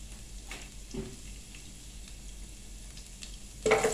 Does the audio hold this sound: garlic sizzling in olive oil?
yes